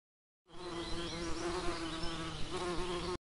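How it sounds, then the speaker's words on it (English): Honeybees (Apis mellifera) buzzing in a dense, continuous drone that holds steady and close for about three seconds, with no voices. "Honeybees, Apis mellifera, are social insects that belong to the family Apidae"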